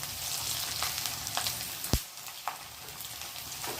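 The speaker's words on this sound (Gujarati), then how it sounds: "આ તેલ ગરમ થઈ ગયું છે. આપણે આપણી આ સ્ટીક તળી લઈએ." Homemade sticks fry in hot oil, a continuous bubbling sizzle with a few sharp pops and crackles standing out, close and fairly quiet, without speech.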